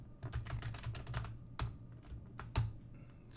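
Someone types on a computer keyboard in short irregular clusters of close, soft key clicks with a few sharper taps and brief pauses, heard alone in a quiet room.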